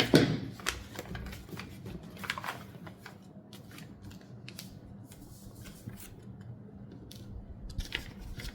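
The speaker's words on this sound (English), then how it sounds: "So let me notch the zipper line." Scissors notching fabric along the zipper line of a bustier pattern piece, a run of crisp irregular snips and rustling paper or cloth, close and fairly quiet with no talk.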